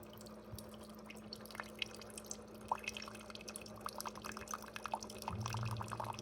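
Water drips and trickles steadily as a Jimmy R9 water dispenser refills its tank from a reservoir through its heating system, filled with well water, a soft close patter of droplets over a low hum.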